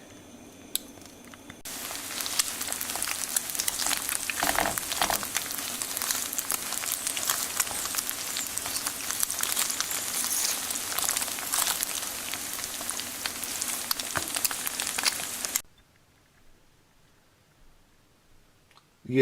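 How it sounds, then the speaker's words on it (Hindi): Beaten eggs frying in hot oil in a kadhai make a loud, dense, steady sizzle that crackles continuously for about fifteen seconds before cutting off to near silence. "हम इनको इसी कढ़ाई में फ्राई करेंगे, और इसके बाद स्क्रैम्बल करके कीमे में मिक्स करेंगे"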